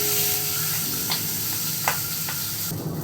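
Boal fish sizzles in hot oil in a pan, a continuous close, bright hiss with a few sharper crackles and light stirring scrapes, and no voices.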